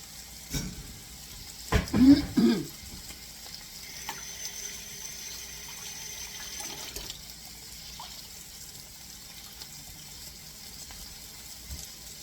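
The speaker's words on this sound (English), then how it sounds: "I'm going to drain my potatoes, and I want to save the potato water" Boiled potatoes being drained in a kitchen, with the cooking water saved: a short burst of pouring and splashing water near the start, then faint trickling and quiet clinks of a pot and strainer.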